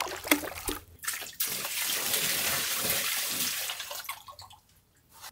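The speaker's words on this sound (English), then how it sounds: "We're gonna grab a couple bucket full of pond water and let's fill this thing up." Pond water poured from a bucket into a homemade bait tank: a steady, loud gushing pour lasting a few seconds, framed by brief splashes and drips before and after, with no talking.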